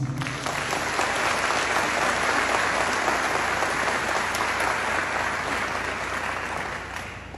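A large audience breaks into loud, sustained applause that swells quickly and holds steady for several seconds before tapering slightly at the end, with no voices rising above it.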